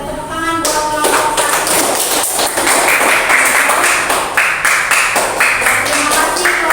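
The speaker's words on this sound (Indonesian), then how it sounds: "Tepuk tangan buat kelompok" Lively clapping from a classroom of primary school pupils after a group presentation, with rhythmic, close claps and a few sharp taps building into steady applause after a brief opening sound.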